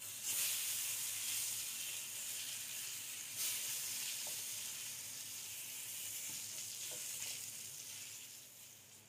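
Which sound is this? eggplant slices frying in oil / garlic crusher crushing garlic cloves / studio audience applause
eggplant slices frying in oil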